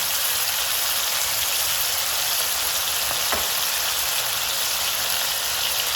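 Onions sizzle steadily in a hot pan for a Tuscan chicken thighs dish, a close, even crackling hiss with one brief tap partway through and no voices.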